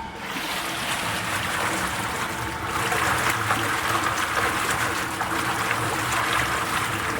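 Water rushing through the water port of a 200-litre vacuum emulsifying mixer during testing, a steady close hiss and gurgle that thickens and grows louder partway through and continues without pause.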